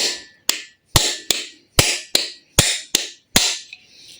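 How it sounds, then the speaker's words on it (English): Eight or nine sharp metal hammer blows land one after another at an uneven pace, each ringing briefly, loud and close, as a part is hammered into a MultiJet JTD diesel engine block. "So I like to do it like this and hammer it down."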